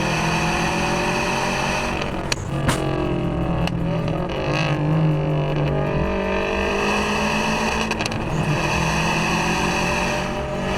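A 2011 Subaru Impreza WRX 2.5 turbo engine revs and accelerates steadily, a loud sustained drone with rising and falling pitch as gears shift, heard up close.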